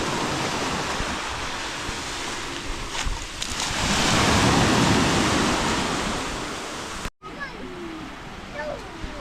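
Evening waves at Amtar beach, Chefchaouen, Morocco, rumble steadily and swell to a louder surge midway. After a short break, faint voices come through over the quieter surf.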